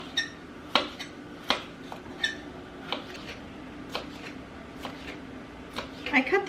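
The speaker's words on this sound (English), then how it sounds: "so I better get that onion chopped up quick" A knife chops onion on a board in a home kitchen for a sausage breakfast, giving sharp, fairly even knocks about once a second, close and clear against quiet room tone.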